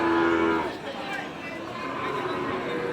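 Sahiwal cattle at a cattle market give a low, drawn-out moo at the start, followed by a noisy outdoor crowd murmur with people talking.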